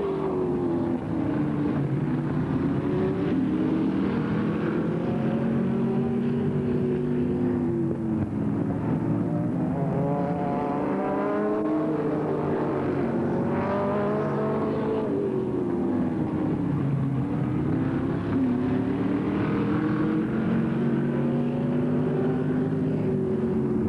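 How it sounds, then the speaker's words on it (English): Stock cars racing around Lakeland Speedway in 1988, engines roaring continuously with rising and falling pitch as cars pass, loud and sustained with no pauses. "Here comes your leader, Castleberry"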